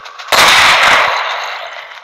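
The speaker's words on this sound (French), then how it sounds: "Le Desert Eagle aussi." A single Desert Eagle pistol shot from a Minecraft gun mod fires with a sharp, loud crack, then rings out in a long fading tail across about two seconds.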